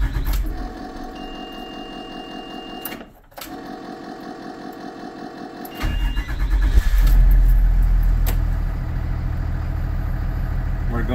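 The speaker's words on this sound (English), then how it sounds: "We're gonna go ahead and start the bus back up." A Bluebird Vision school bus engine cranks and catches partway through, then settles into a loud, steady diesel idle with a low rumble. A brief drop in level comes just before the start, and there is no talk.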